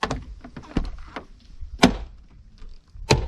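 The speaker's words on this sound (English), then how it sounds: "Someone's tried to repair it before with a pop rivet. And so now it just wiggles around and pops every time you open the door." A loose car door catch, once repaired with a pop rivet, gives several sharp clicking pops and clunks as the door is worked open, loud and close, with no talking.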